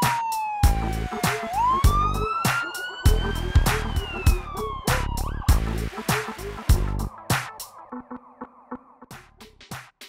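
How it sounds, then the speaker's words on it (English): A loud wailing siren rises and falls over a rapid, pulsing electronic beat, then gives way to sharp rhythmic clicks that fade out. "ambulances are large vehicles with bright flashing lights and a loud siren"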